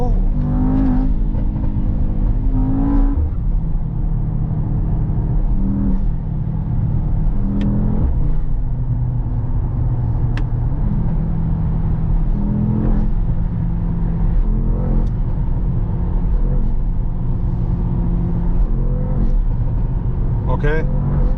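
Mercedes-AMG GT E-Performance with an 843 hp V8, revving while driving from inside the cabin; a steady, loud engine drone with gear changes and rising revs runs throughout, with someone talking over it.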